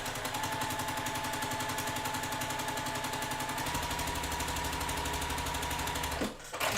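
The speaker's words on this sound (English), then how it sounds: "And sew the whole way down." A sewing machine stitches half-square triangles along a drawn line with a quarter-inch foot, its rapid needle chatter running loud and continuous at close range before stopping abruptly near the end.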